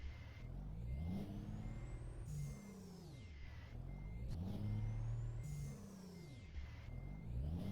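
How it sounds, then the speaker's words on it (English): A heavy truck in American Truck Simulator reverses, its engine droning and revving in waves while a steady high reversing beep repeats in the background, with no talking. "Beep, beep, beep, backing up."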